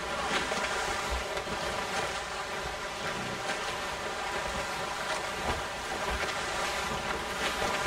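Wind and open-sea water wash over a sailing ship in Assassin's Creed Rogue as sails are set, with steady broadband rushing, faint creaks and low thumps throughout and no voices.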